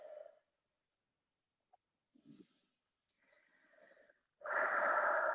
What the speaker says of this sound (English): And just take some deep breaths.